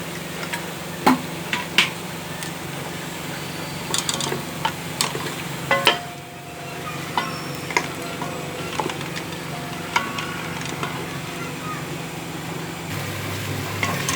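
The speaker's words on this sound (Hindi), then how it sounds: "चिकन भूनते हुए तकरीबन 10 मिनट हो चुके हैं।" Chicken frying in oil in a pan, a steady close sizzle with frequent utensil clicks and scrapes from stirring, briefly quieter midway before the frying and stirring carry on.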